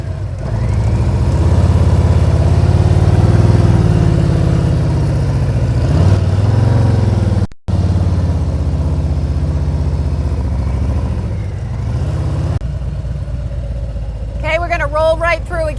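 A Harley motorcycle engine rumbling steadily at low revs while the bike rolls through a tight turn, loud and continuous, with someone talking over it.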